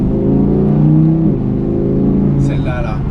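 An Audi R8 Performance V10 from 2019 pulls hard at full load between 3000 and 4000 rpm in fourth gear, a loud, rich droning engine note rising steadily from inside the car, with someone talking over it.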